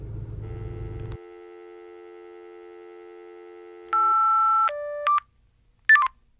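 A shed's telephone, just answered, gives a short burst of line noise, then a long steady tone followed by several short electronic beeps, clear and close.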